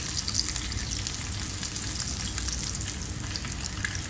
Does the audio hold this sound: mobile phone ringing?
no